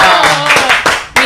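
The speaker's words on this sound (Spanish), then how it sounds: "Quiero que recibamos con un fuerte aplauso al maestro Richie Rosa." A crowd claps to welcome maestro Richie Rosa at an arts gathering: loud, close hand clapping that swells and dips in bursts over a short stretch, with voices mixed in.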